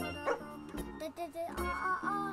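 Cartoonish dog yips and barks in the video game Pupperazzi sound in quick bursts, mixed with a person talking excitedly over them.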